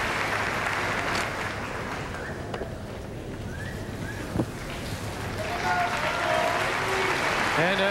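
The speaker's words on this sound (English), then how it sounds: "And as for Kathy Borst, a nice round of applause from the sold-out Civic Center for straight peel, eh?" A sold-out Civic Center crowd at a championship curling final applauds, a broad steady clatter of clapping that swells toward the end, with commentators talking over it.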